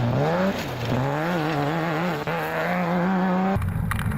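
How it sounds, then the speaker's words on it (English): A single cab Toyota Hilux bakkie in a Koster 200 off-road race, heard from inside the cab: the engine drones loudly and steadily, its pitch rising and falling through gear changes, then breaks into rough rattling near the end. "Francois van der Walt and Gerry Prinsloo, to see how it looks from a driver's and navigator's point of view in their single cab Toyota Hilux"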